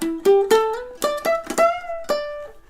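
A ukulele fingerpicks part of a melody, with a string of clear plucked notes rising in pitch, close and fairly loud, each ringing briefly before the next.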